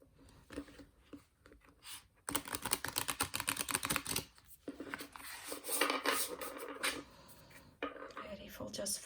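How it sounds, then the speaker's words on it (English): Oracle cards from a Lakshmi deck riffle-shuffled by the corners, giving bursts of rapid crisp fluttering clicks in several rounds, close up, with soft pauses between them. "let's give the cards a nice shuffle"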